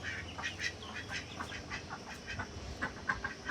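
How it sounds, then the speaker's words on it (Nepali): Ducks on a farm in winter, including white ducks, quack in quick, scattered bursts at moderate distance over a low background rumble. "हाँसले अहिले अन्डा दिँदैछ"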